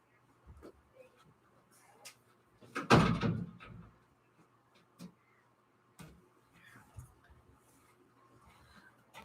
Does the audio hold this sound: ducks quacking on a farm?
no